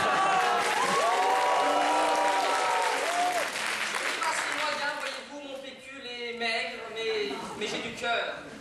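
Audience in a debate hall applauds loudly and steadily, with a voice speaking over the clapping early on before it tapers slightly toward the end.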